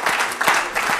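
A TV studio audience claps in a short, dense burst of applause, fairly loud and close, with no talking over it.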